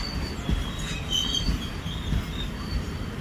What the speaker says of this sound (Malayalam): Kanyakumari to Mumbai CST, Kanyakumari Mumbai CST express ആണ്.